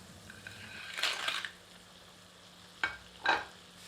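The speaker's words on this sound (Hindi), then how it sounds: "एक बार करछी चलाकर सारी सामग्री को अच्छी तरह मिला देते हैं।" A ladle scrapes and stirs through crab curry in a pan, with two brief stirring bursts and a few sharper clinks against the metal, heard close over a soft low cooking hiss with no talk.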